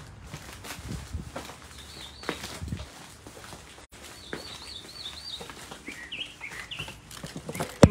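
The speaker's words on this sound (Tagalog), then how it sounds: "Maingay ang mga ibon sa labas." Several birds chirp and warble in short bursts outdoors, moderately close, over light background noise and a few knocks.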